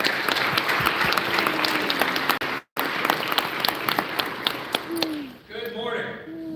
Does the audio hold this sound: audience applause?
yes